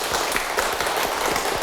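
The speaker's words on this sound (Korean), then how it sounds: "오늘 수고해주신 두 선배님에게 큰 박수 부탁드릴게요." Students in an audience applaud two seniors after a talk at a university computer science program event, a steady wash of clapping with individual hand claps audible up close throughout.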